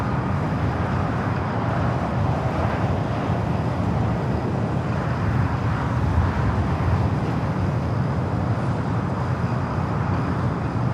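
A Boeing 787 Dreamliner takes off from the north side of Los Angeles International Airport, a steady broad low roar of jet engines that holds loud and even throughout, with no voices.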